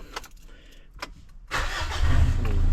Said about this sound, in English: just start your car up